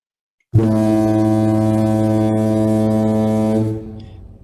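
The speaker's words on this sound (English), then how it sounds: "That's the foghorn I put in just to make sure you guys are still awake." A foghorn sound effect gives one long, loud, deep blast with rich steady harmonics, sounding about three seconds before cutting off into a short fading tail.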